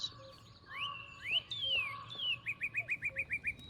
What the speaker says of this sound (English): Listen to the birds sing.